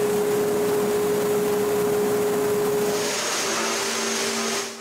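A shop vacuum runs inside a soda-blasting tent, pulling suspended baking-soda dust with a loud, steady droning whine and hiss that drops in pitch near the end and then cuts off.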